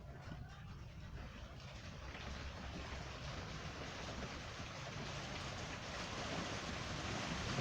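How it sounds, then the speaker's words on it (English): Heavy rain pours in a steady, dense hiss that slowly swells louder, with no distinct breaks, heard indoors as a continuous wash of noise. "Y'all hear the rain? It's pouring."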